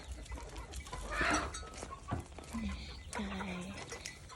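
Chickens cluck softly amid outdoor farmyard noise, mostly muffled and at middle distance, with a few brief louder calls.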